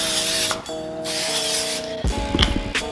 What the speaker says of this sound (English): we're about to spray down the 2 pans with some olive oil.